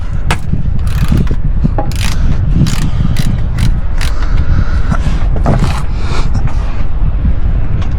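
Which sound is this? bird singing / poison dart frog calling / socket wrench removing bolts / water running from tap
socket wrench removing bolts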